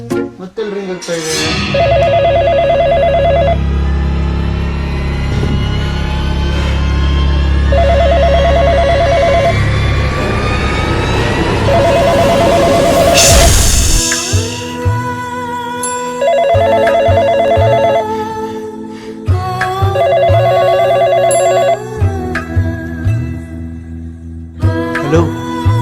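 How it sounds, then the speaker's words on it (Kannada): A telephone rings in repeated short bursts, with several rings spread through the scene, under loud music and voices in the first half and then talk between rings. "ಮತ್ತೆ ರಿಂಗ್ ಆಗ್ತಾ ಇದೆ."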